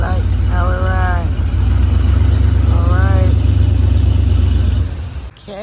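A camper van on newly installed tires runs with a steady low engine rumble, loud and close, and two short rising tonal whines, before the sound drops off near the end.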